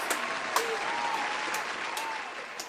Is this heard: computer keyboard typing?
no